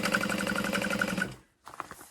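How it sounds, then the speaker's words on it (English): A sewing machine stitches across the top of a tote bag gusset at a stitch length of 4, a fast, even mechanical chatter that runs steadily, stops briefly, then restarts with a few uneven stitches. "I'm going to sew on the top of the gusset"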